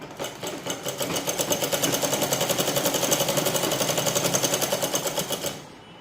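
Sewing machine stitching petticoat fabric along a marked line, a steady, fast rhythmic clatter that builds up, runs continuously and then stops, close and fairly loud without talk.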